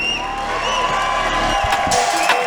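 Crowd cheering and whooping at a BTC 21 Fight Night Kitchener MMA event after the win, a dense steady roar of voices with a low rumble that thins slightly toward the end.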